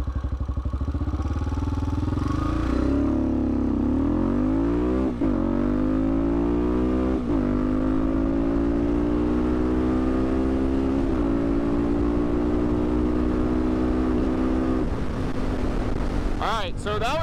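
A TBR7 engine fitted with a performance camshaft revs hard during a run, its loud, steady buzzing drone climbing in pitch, then dipping briefly at several points before climbing again, and falling off near the end.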